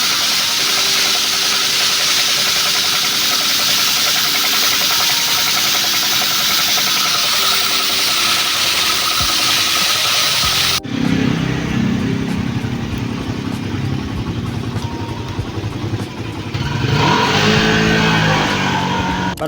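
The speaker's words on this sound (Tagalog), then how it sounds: "Subukan nating padaanan ng pressure washer to." Pressure washer running loud and steady near a Suzuki Raider 150 motorcycle, its motor drone giving way midway to a harsher, broadband rushing spray that continues to the end.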